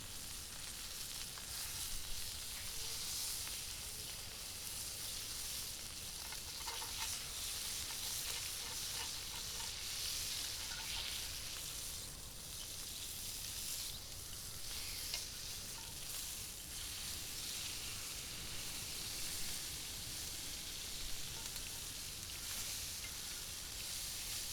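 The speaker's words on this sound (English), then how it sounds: "We sear them on all sides" Dry-aged ribeye steaks searing over high heat in a pan, giving a loud, continuous crackling sizzle with steady hiss and small spatters that hold evenly with no voices.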